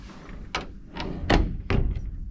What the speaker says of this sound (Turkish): Kapıyı kapatıyorsunuz.